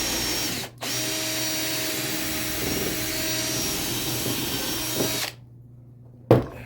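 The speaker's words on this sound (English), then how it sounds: "I do a little pre-drill and take a very small drill bit" A power drill with a very small bit whines steadily for several seconds while pre-drilling oak wood, then stops, followed by a brief clunk.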